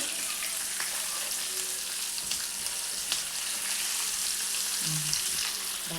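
Fish sizzling steadily in a shallow layer of oil in a pan, a continuous close crackling hiss with a few faint stirring knocks near the end and no talk.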